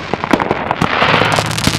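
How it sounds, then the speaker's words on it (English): Consumer fireworks, including a Kings Ransom cake, go off outdoors at an Independence Day celebration in Moapa. Rapid crackling pops and bangs burst in dense, irregular volleys, loud and continuous, with faint background hiss. "We got some other people's fireworks going off right now."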